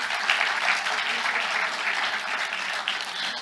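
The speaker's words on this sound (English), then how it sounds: "can I ask everyone to please give this group a round of applause" An audience applauds a panel group at a public-private partnerships panel on philanthropy, with steady, dense clapping from many hands holding at an even level throughout.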